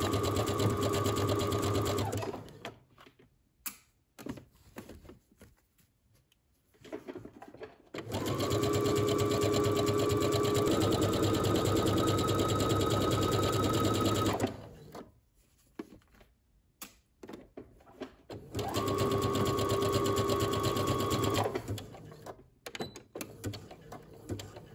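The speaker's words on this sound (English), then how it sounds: "So now all you need to do is go to your sewing machine and attach your sleeve to the dress." A sewing machine runs in three long bursts of steady, whirring stitching as a sleeve is attached to a dress, with quiet pauses and faint handling noises between them.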